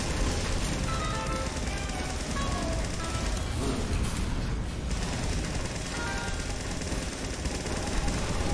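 Rapid, continuous syringe gun fire in Team Fortress 2, with a dense rattling stream of shots running under a busy game soundscape throughout.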